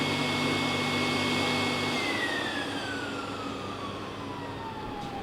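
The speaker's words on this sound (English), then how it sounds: "the vacuum is engaged" A screen printing table's vacuum runs with a steady whooshing hum and a high tonal whine that drops in pitch midway as it disengages, continuing as a softer wind-down.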